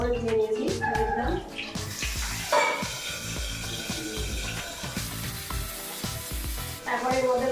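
Washed vegetable slices, seeds removed, go into a hot pan for an egg curry, giving a loud continuous sizzle with bubbling and clatter as they fry.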